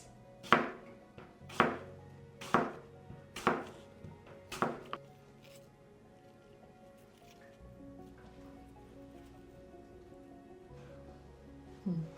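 A knife slices apples thinly for a cranberry apple galette, five sharp cutting strokes landing about once a second, close and loud, then quieter handling and movement.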